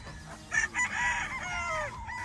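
A Golden Boy gamefowl rooster with a rose comb lets out a single drawn-out crow, moderately near, over faint background noise.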